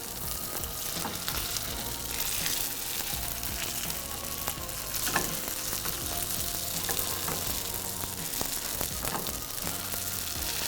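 Grain patties with bits of onion fry in a pan just after being flipped, giving a steady, close sizzle across the whole stretch with faint scattered crackles and no talking.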